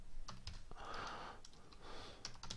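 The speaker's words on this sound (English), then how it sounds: "If we type flexcomp, which is the name of the compiler" Someone types a short compiler command on a computer keyboard: a few faint, soft key clicks in a quiet room, with some breathy background noise.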